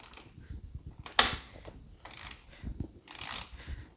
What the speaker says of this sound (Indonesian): Itu diatasinya dengan kunci L atau kunci ini, kunci shock yang nomor 14 itu.